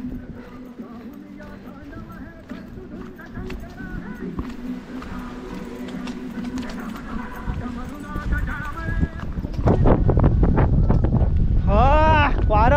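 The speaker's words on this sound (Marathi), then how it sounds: "वारा बघ कसला भारी आहे." Strong wind buffets the microphone atop Sagargad fort near Alibag, a steady low rumble that swells louder toward the end, with people talking over it.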